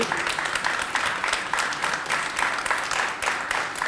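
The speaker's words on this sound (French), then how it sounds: "Claude, vous pouvez l'applaudir." A television studio audience applauds guest Claude Rappé, a steady, even wash of many clapping hands that continues without a break and stays at moderate loudness.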